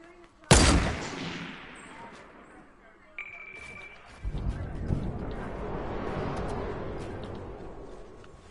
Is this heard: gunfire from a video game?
yes